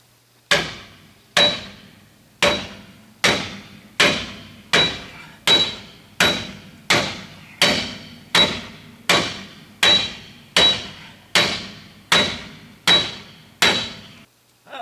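Sixteen heavy metallic hammer blows ring out at a steady pace, about one per second, each with a bright clanging decay, while working on the rear wheel cylinders of a 1966 Chevy Biscayne.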